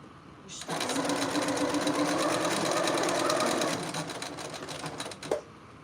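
A sewing machine stitching fabric strips for a quilt runs in one continuous buzzing burst of about five seconds, loud and close, then slows and stops with a brief clunk.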